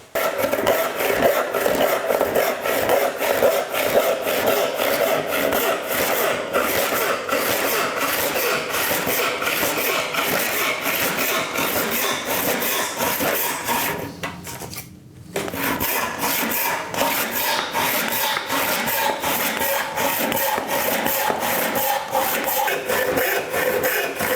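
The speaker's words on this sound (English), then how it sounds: "So I'm going to go ahead and cut this shape into the board" A saw cuts a shape into a scrap wood board with a steady, close, rasping buzz that runs almost without break, stopping only briefly partway through before carrying on.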